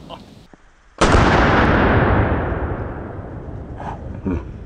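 A single loud, heavy shot from a .45-70 rifle firing a 460-grain +P hard cast load booms suddenly into a giant sandbox, its roar rolling away and fading over several seconds.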